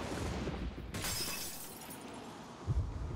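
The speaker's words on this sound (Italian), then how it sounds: "Ho sentito spaccare un vetro," A glass window smashes in a video game, a short burst of breaking glass that fades into a dull, noisy game soundscape.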